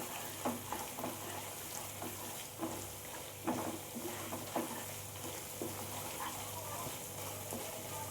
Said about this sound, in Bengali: এবার সমস্ত মশলাগুলো আমি ভালো করে 4-5 মিনিট ধরে কষিয়ে নেব